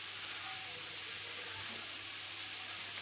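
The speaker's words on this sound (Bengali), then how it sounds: "টমেটো দিয়ে এবার আমি আর একটু নাড়াচাড়া করে নিচ্ছি।" Maggi noodles with tomato and winter vegetables sizzle in a pan as they are stirred, a soft, continuous frying hiss at low volume with no voices.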